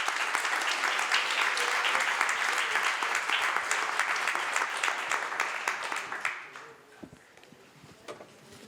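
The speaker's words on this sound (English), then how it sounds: "give a huge applause to our panelists" Audience applause for the panelists at the close of a panel discussion on AI, social security and work assessment, dense steady clapping that carries on for about six seconds, then thins abruptly into a few scattered claps and quiet.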